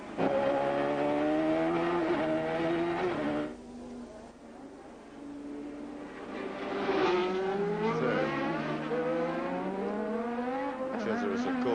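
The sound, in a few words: Formula 1 race car driving at the Adelaide Australian Grand Prix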